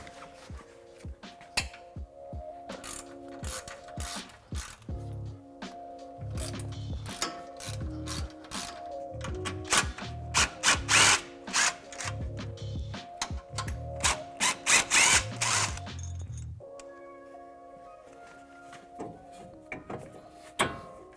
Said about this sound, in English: Using a 14mm socket on an extension, we're going to loosen up the two bolts holding this mount in now